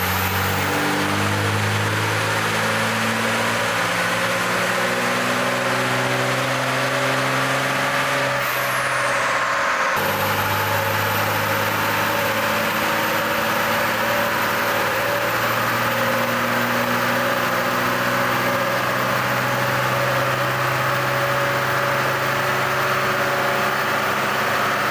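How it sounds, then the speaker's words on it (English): A diesel truck engine runs hard on a dynamometer, a loud steady drone with rising and falling harmonics through repeated pulls, a brief drop and sharp restart partway through, a high whine above, no talking. "So we're going to get this on the dyno now, make some runs, swap fuel, dyno again, back on the tow test."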